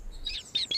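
A newly hatched baby bird chirps in thin, high peeps, a few short tweets in quick succession, small and close.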